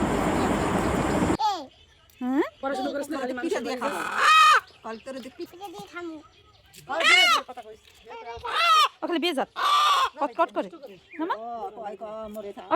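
A household-raised pet rooster, due to be slaughtered for a meal, clucks and calls in short bursts mixed in among people talking nearby, after a brief rush of noise at the start.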